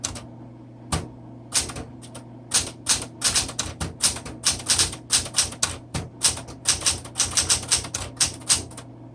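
Keys strike on a red 1960s Smith Corona Classic 12 manual typewriter, with crisp mechanical clacks that start sparse and quicken into irregular bursts, heard close and alone.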